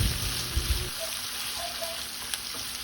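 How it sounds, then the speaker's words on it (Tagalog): Shrimp sautéing with softened onions in a pan, a steady close sizzle and frying hiss with a few brief clatters of stirring near the start. "At kapag nalanta ng sibuyas, ihulog na natin kaagad ang mga hipon. At igisa natin ang hipon hanggang sa magbago ang kulay."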